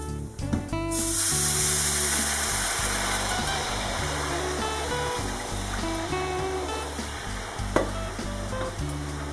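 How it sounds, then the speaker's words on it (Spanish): Water poured into a hot pan of golden fried rice sets off a loud, sustained sizzle and hiss, steady bubbling that begins after a sharp burst near the start and carries on to the end. "Y como ya está, le voy a añadir el agua."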